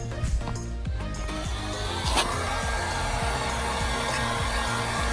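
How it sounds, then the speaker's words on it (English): Steady blowing hiss of a heat gun running continuously, close by, used while rolling the fenders of a 2007 BMW 335i, with a few faint knocks and handling sounds underneath. "I'm gonna get the heat gun"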